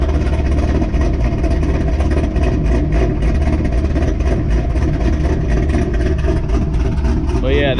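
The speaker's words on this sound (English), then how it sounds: "Cold start." Pontiac GTO with Kooks long-tube headers, Corsa cat-back exhaust and a comp cam idling after a cold start, a loud, deep, lumpy rumble heard close and steady throughout.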